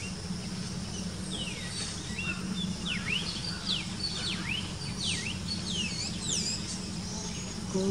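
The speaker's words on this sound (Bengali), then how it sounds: "আমি অনেক ধরনের পাখির ডাক শুনতে পাচ্ছি" Many kinds of birds call on a calm morning, overlapping chirps and whistling trills repeating throughout at moderate distance, over a steady low background hum and faint insect buzz.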